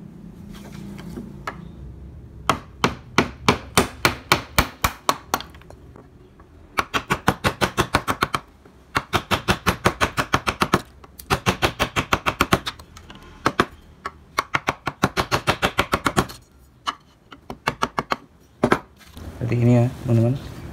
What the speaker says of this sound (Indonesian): sama ya menggunakan pahat kol